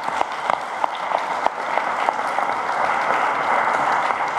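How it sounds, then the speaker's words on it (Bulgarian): A crowd at a political rally applauds two generals, opening with a few sharp, distinct claps that quickly merge into steady, dense applause building slightly in intensity. "Моля аплодисменти и за двамата."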